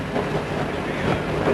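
A train rumbles along the rails near Harlech Cliff on the Cambrian line while braking for a 15 mph restriction, a steady low roll with faint wheel clatter and no voices.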